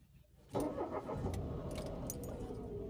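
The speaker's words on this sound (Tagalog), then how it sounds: "So apakan mo yung clutch then i-turn on mo yung susi ng ano mo sasakyan." A manual Mitsubishi Mirage G4 GLX is started with the key, with a brief crank and then the engine catching and settling into a steady, fairly loud idle that runs to the end.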